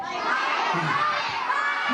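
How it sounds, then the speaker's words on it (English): A crowd of children and library visitors cheers and shouts at a magic show in the Whitehall Community Library, a steady, dense roar of young voices with no clear speech. "Cheering filled the air at the Whitehall Community Library as students of the 21st Century program and library goers alike enjoyed a magic show."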